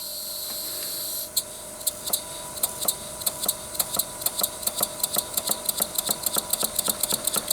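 A small model steam-type engine driven by compressed air from a little air compressor, with a heavy flywheel, chuffs in a quickening, regular rhythm of sharp clicking beats that starts after a brief hiss and speeds up steadily.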